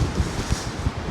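Steady gusty wind roaring through woodland trees with rustling leaves, a broad constant wash of noise close around, with low buffeting thumps on the microphone.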